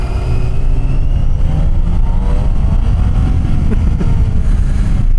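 A BMW 1600 GT touring motorcycle engine pulls hard and accelerates, a loud, steady, close-up roar that holds without a break for about five seconds.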